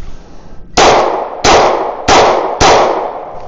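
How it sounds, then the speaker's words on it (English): Four loud, sharp gunshots from an FN Reflex revolver, fired in fairly quick succession at an outdoor target, each crack ringing briefly before the next. "So let me just go ahead and shoot a little bit faster on that one at the bottom"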